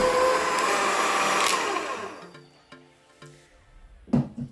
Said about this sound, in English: we just combine all of these and mix on high for another 30 seconds